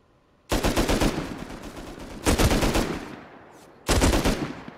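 Auto turret gunfire in the game Rust, three loud sustained bursts of rapid automatic fire, each starting abruptly and decaying, separated by brief quieter gaps.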